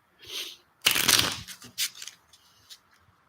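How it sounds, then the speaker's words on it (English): A deck of playing cards is shuffled by hand in a few quick riffling bursts, with a longer flurry followed by softer taps and a cut, up close and quiet. "I give the deck of cards a shuffle and a cut."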